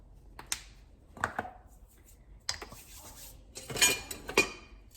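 Dry biscuit ingredients with cream of tartar being stirred together in a bowl, a handful of scattered scrapes and light clinks of a utensil against the bowl, soft and close with quiet gaps.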